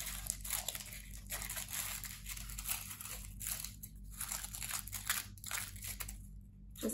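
Scissors snip and crunch steadily through excess craft material trimmed around the base of an electric tea light for a light-up coral reef, the close crinkly cutting sounds continuing over several seconds with no talking.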